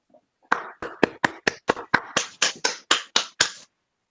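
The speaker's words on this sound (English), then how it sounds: "Oh, a strange sound of that one clap." A slow series of about a dozen separate, evenly spaced hand claps during a school board meeting, each crisp and close, with a faint sound just before them and no talking.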